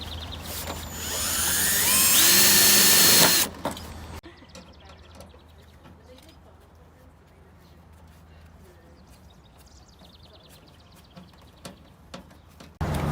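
A power drill whirs loudly for a few seconds driving a screw into a metal downspout, then stops, followed by quieter handling noises and faint clicks.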